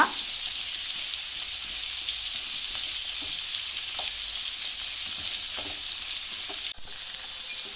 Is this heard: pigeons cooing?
no